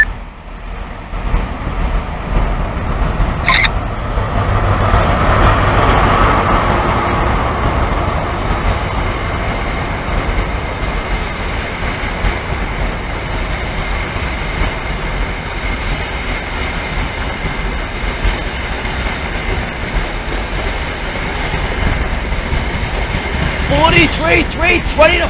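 Virgin East Coast passenger train passing through on a diverted East Coast Main Line route, a loud sustained rumble and rush with a brief horn-like tone early on, heard alone and close throughout.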